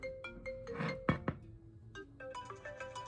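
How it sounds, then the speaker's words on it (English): Default iOS 6 iPhone ringtone playing at low volume, a bright melodic chime pattern with glassy, bell-like notes and a few sharper clinks mixed in, heard alone. "let's go through the ringtones. This is the default."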